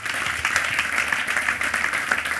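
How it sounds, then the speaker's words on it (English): A church audience applauds, a brief dense patter of many hands clapping steadily for a couple of seconds. "Clap for Jesus Christ."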